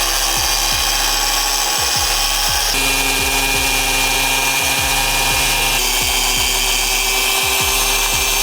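A power tool whines steadily and loudly while cutting a 4th gen 4Runner rear bumper, with repeated rhythmic low thumps and a slight pitch shift partway through as the cut continues.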